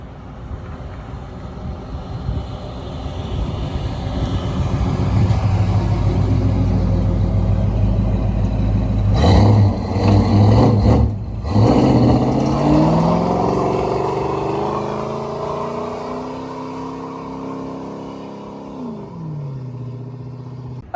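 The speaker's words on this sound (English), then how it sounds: "I asked if he wanted to do a burnout for us" A 1970 Ford Thunderbird does a burnout, its engine roaring and revving loudly with a rising, then fading rumble over about twenty seconds, heard from nearby outdoors.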